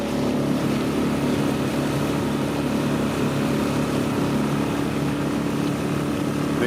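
Motor catamaran cruising at about 30% throttle, a loud, steady engine drone mixed with rushing water and hull noise that holds constant throughout, with no talk.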